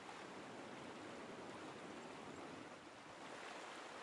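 Water pours out of a dam in the Cities: Skylines video game as a steady, dense, loud rushing roar that continues without a break and with no voices.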